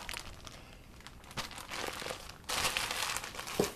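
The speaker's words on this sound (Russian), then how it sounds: "Открываем этот пакетик." A plastic package bag from a parcel being torn open by hand, giving a run of close crinkling and ripping bursts that grow louder toward the end, with no talking.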